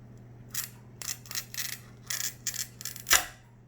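A glass cutter scores a line across stained glass with a series of short, scratchy rasps in an irregular rhythm, close and fairly quiet, ending on a sharper snap.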